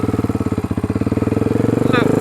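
A modified Honda 300EX ATV engine idles close up, its loud, steady throb pulsing evenly, with a brief high squeak near the end.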